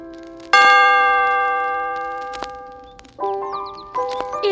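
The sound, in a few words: storybook page-turn chime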